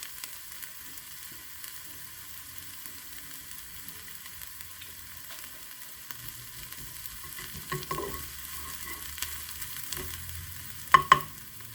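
Peppers and an omelette fry in a pan, giving a soft, steady sizzle with stirring scrapes that build toward the end, ending in a couple of sharp clinks from the utensil against the pan.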